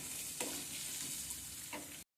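Chopped onions fry in hot oil with a steady, soft sizzle, stirred occasionally so brief scraping bursts rise above the hiss; no one speaks.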